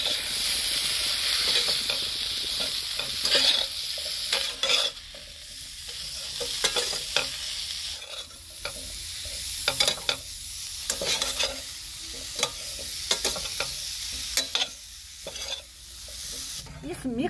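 Turmeric, coriander, fenugreek, fennel and chilli roasting in a pan for a mixed carrot, radish, chilli and amla pickle: a soft continuous sizzle broken by repeated scraping stirs and spoon clinks, with no talk.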